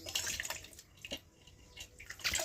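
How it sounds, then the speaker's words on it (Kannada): Water being poured while making butter at home from buttermilk, brief splashing and trickling bursts at close range, fairly faint, with no talking. "ನೀರು ಹಾಕೋದು"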